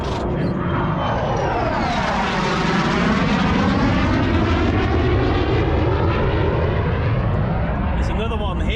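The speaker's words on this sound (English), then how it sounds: "I think these are F-18s." Fighter jets, likely F-18s, roar overhead above open water in fine weather, a loud continuous rumbling rush that swells and sweeps in pitch as they pass, filling the whole stretch.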